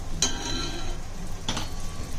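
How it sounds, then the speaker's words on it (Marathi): Blended tomato paste sautéing in oil in a pan for misal, a steady soft sizzle running throughout, broken by two sharp spoon clinks or scrapes about a second apart, close by with no talking. "टोमॅटोची पण चांगली परतायचे"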